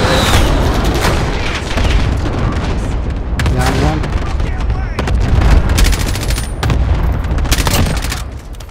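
Loud, close gunfire crackles in Warzone, rapid automatic bursts mixed with single cracks and heavy booms, dense and nearly constant, with players talking over the shooting.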